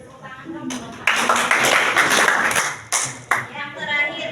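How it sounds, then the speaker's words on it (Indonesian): A classroom of students applauding together, a burst of clapping that rises suddenly and holds for a couple of seconds, with brief talk before and after. "Beri tepuk tangan dong."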